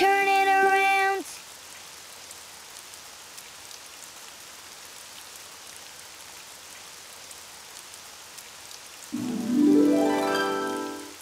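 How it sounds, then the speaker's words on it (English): Steady rain patters softly and evenly throughout, with brief tonal musical sounds at the start and end. "It's raining outside."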